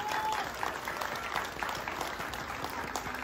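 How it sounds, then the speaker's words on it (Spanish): Guests at Kimberly's graduation and eighteenth-birthday celebration give a sustained, dense round of applause, a crowd clapping continuously and fairly evenly from start to finish with faint voices beneath. "Fuerte ese aplauso, por favor, para Kimberly."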